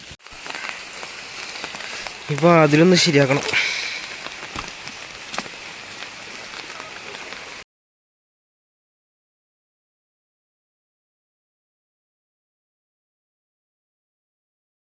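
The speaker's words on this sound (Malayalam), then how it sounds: "മഴ പെയ്യട്ടാ, കുട ചൂടിയിട്ടാണ് ഇപ്പം നിൽക്കുന്നത്" Rain patters steadily on surfaces around a home farm, a soft continuous hiss with a brief louder burst partway through and a few words of speech.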